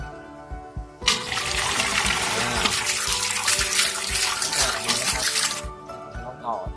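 A small 12 V submersible water pump, lowered into water with its head just poking out, sends out a loud steady rush of splashing water for several seconds, with quieter moments before and after.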